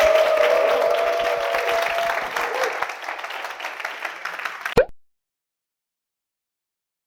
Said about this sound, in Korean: 대표님 위해서 한 번 더 박수하겠습니다.